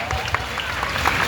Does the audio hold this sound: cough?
no